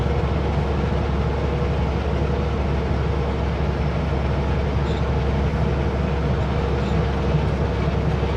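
A train runs along a Canadian National rail line in dry British Columbia country, giving a steady, continuous low rumble and rolling rail noise with no breaks, fairly close and even in loudness throughout.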